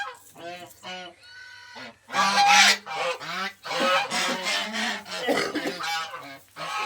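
Farm geese let out repeated loud honks in bursts, several birds calling close by in an uneven sequence.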